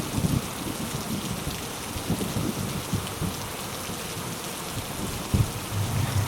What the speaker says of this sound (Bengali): রাত্রে শুরু হলো বজ্রপাত সহ মুষলধারে বৃষ্টি।